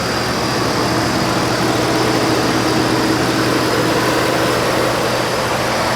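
A Ford F-150 XLT crew cab's 5.0 liter V8 idles steadily, a continuous loud, even engine drone with a low hum and no changes in revs, heard close up without any talking.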